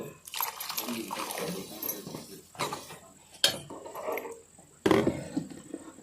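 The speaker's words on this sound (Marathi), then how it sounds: "अजून पाणी घालून घ्यायचं आपल्याला" Water splashes and trickles into a pot of green moong dal in short bursts, with clinks and scraping between pours, close by.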